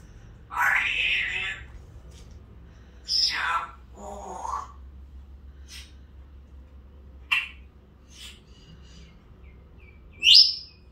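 Pet parrots chirping indoors in several bright, separate bursts spread across the stretch, close and fairly loud over a quiet room hum.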